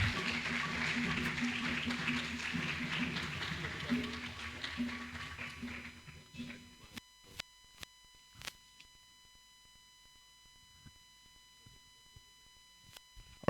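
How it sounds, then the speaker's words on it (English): Audience at an opening ceremony of a national week celebration clapping steadily, a busy wash of applause that fades out midway, leaving scattered faint taps and quiet. "Do it better. Do it better."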